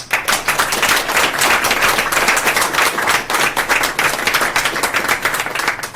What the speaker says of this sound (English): could we hold our applause till the end of the session?